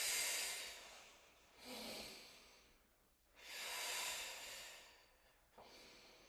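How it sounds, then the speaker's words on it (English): Deep breathing during a curl-up exercise: two long, airy breaths drawn in and pushed out slowly, close and soft, with no talking. "Take a nice deep breath,"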